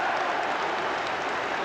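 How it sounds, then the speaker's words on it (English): Celtic fans applauding Peter Grant at a 1988 Scottish Premier Division match against Dundee United, a steady wash of distant stadium clapping and crowd noise that holds evenly throughout. "Applause from the Celtic fans for Peter Grant."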